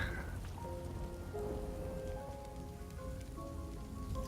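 Steady rain patters and hisses in the Divinity: Original Sin 2 video game after a rain spell is cast, with soft tonal game sounds drifting beneath the downpour.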